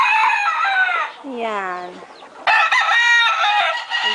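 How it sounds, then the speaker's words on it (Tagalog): Farm chickens being fed crow loudly and cluck close by in a run of rising, harmonic calls, with a person speaking a brief word between them. "Si JP nagpapakain ng manok."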